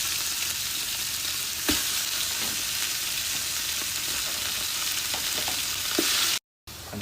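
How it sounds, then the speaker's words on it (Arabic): Fresh meat sears in a dry pan with no oil, giving a loud, steady sizzle with occasional pops and stirring scrapes, then a brief cut to silence near the end. "تحطون اللحم الطريقه هذه، لحم فريش ما يحتاج لاي دهن، اي زيت. خلوه يتحمس على كيفه"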